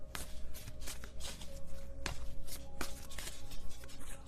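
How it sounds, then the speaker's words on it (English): Tarot cards being shuffled by hand, a steady run of soft papery riffles and slaps lasting about four seconds, close up and fairly quiet, with no talking. "If I could just shuffle, that'd be great."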